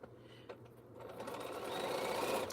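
Sewing machine stitching T-shirt quilt pieces, starting with a few faint clicks, then a rapid, close mechanical whir that grows louder and steadier.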